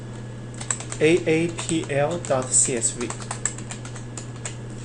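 Typing on a computer keyboard while entering a file path in a Jupyter Notebook, a quick run of light clicks spread through the clip beneath steady talk, with a constant low electrical hum in the background.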